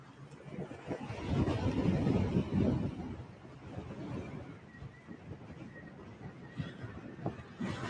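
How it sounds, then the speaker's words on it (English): Wind rumbles against a microphone outdoors at a motor rally event in Wales, swelling into a heavy low buffeting gust early on before easing to a softer, steady blustery background. "And it is incredibly windy."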